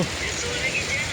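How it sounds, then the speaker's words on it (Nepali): Steady rain falls outdoors in Nepal, a soft continuous hiss of drops on a surface with low rumble underneath, close and even throughout. "पानी परिरहेको छ गाइस।"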